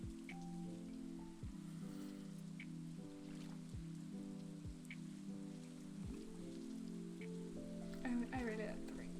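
Rain falls softly in the farming game Stardew Valley, a gentle constant patter under a mellow looping tune, with brief splashy water sounds near the end and no voices.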